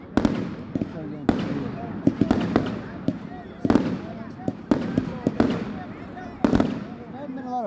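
Christmas fireworks burst at an outdoor display in Kentwood, Louisiana, with repeated sharp bangs and crackling pops at irregular intervals, some distant, while people talk and react nearby.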